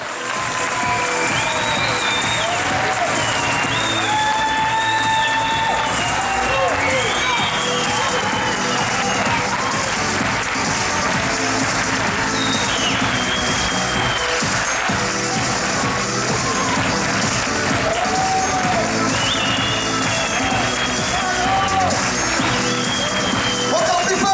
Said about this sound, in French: J'aimerais vous entendre déclencher vos applaudissements maintenant.